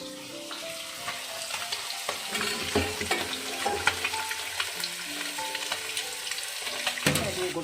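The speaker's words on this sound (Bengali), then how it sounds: "গোটা জিরে ফোড়ন দিয়েছি, এখন ডাটা আলুটা দিয়ে দিই।" Whole cumin seeds sizzle in hot oil, and potatoes are added and stirred with a spoon, making steady frying hiss with repeated scraping and clinks close by, no talking.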